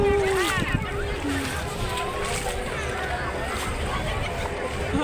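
Water sloshing and splashing around the legs of someone wading knee-deep across a stream, a steady churning wash that runs through the whole stretch while people talk over it.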